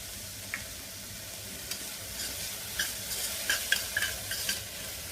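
Capsicum sautéing in a pan with salt gives a soft continuous sizzle, punctuated by light clicks and scrapes of stirring that grow busier toward the end.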